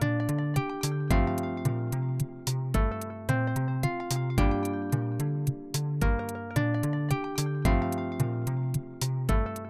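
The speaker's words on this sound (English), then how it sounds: "I wanted to highlight another piece of music that my husband's been working on" A gentle instrumental game soundtrack piece plays on its own, with a repeating bass pattern and bright plucked notes in a steady, looping rhythm.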